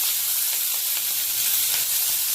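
Vegetables, curry leaves and chana dal fry in a pan with a steady, dense sizzle and hiss, continuous and fairly loud with no talking.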